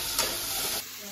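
Tomatoes sizzle as they are sautéed in a pan, a brief steady hiss of frying with a light stir at the start, close and moderately loud before fading down.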